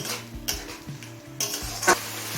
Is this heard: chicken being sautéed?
yes